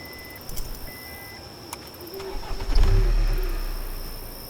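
A car engine in the horror game Homebody turns over and catches, then rumbles and swells louder while electronic beeps and tones sound above a hissy background, with no talking.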